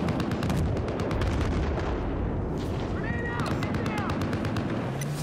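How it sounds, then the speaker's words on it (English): Rifle fire and explosions crackle in a Battlefield 4 video game battle, with a rapid run of sharp shots at first, then heavy rumbling booms and whining effects underneath, all loud and continuous. "There's a sniper somewhere I don't see. Yeah, you hear this, man."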